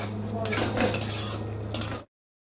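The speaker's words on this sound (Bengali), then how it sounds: "দিয়েছি চিনি দিয়ে একটু নেড়ে নেবো 1 মিনিট" A spoon stirring okra curry with sugar in a pan, brief clinks and scrapes of metal on the pan over a low steady hum, close and clear, then stopping abruptly.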